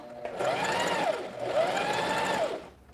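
A Singer Facilita Pro 4411 sewing machine stitches zigzag in two quick bursts of fast rhythmic whirring and needle chatter. A brief pause separates the runs, and it is close and moderately loud.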